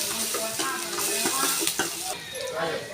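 Onions sautéing in a pan for the tempering of mashed amaranth greens, a continuous close sizzle broken by occasional spoon stirs and light scrapes, with no voices.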